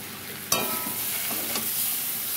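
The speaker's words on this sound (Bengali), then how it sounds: "এবারে আমি এটা একটু কষাবো, কষিয়ে তারপর জল দিয়ে দেবো" Spice masala frying in a pan with salt and a little red chilli powder, a sharp spoon clank near the start, then a steady hiss of sizzling with light scraping strokes throughout.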